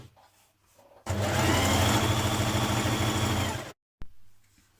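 A sewing machine runs a long continuous burst of gathering stitches on a Burda skirt, loud and steady for nearly three seconds, then cuts off abruptly into quiet.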